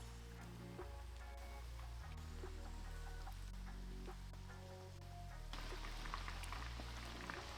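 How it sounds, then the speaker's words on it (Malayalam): Chicken pieces deep-frying in hot sunflower oil give off a faint, steady sizzling hiss, with soft background music playing underneath. "എണ്ണ ചൂടാകുമ്പോൾ നമ്മുടെ ചിക്കൻ പീസ് ഓരോന്നായി ഇട്ട് കൊടുത്ത് നന്നായി വറുത്തെടുക്കുക"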